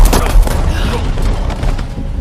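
Gunfire in an action film battle scene from The Old Guard: a loud, dense fusillade of booming shots fires in rapid overlapping bursts for a couple of seconds, with no talking.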